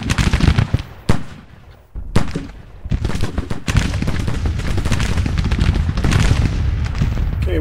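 Civil War gunfire in the Grand Tactician: Civil War video game, with scattered sharp shots and bursts at first, then a dense continuous crackle of musketry and distant booms.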